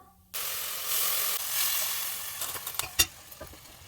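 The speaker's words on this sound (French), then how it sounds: "on va rajouter petit à petit notre bouillon qui est encore chaud" Hot broth ladled onto toasting risotto rice with shrimp and mushrooms bursts into a loud, steady sizzle that hisses on, then crackles and spits in short pops as it settles.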